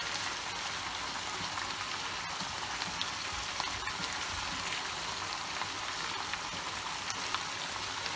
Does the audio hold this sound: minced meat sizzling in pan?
yes